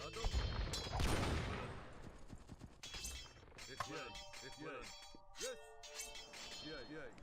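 Ballistae firing bolts in an Age of Empires 2 battle: repeated sharp impacts and metallic clangs in quick volleys, layered over a noisy battle din with tonal chirps.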